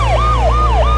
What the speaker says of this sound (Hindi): अरे तो पुलिस के सायरन आ रहे